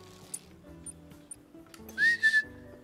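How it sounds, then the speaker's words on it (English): A short, clear rising-then-level whistle sounds once in the video game Bloodhounds after a dog command is given, over soft music and faint ticking in the background. "It always does a little whistle when you're finished giving it a command."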